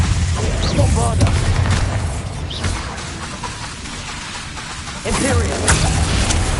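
A Bombarda blasting spell in Hogwarts Legacy booms over busy game noise and a running voice, with heavy low rumbles and crackling bursts throughout and a fresh surge near the end.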